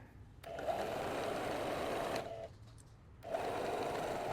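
A sewing machine stitches a dart in fabric, starting with a backstitch: a close, steady mechanical whir that runs for a couple of seconds, pauses briefly, then starts up again.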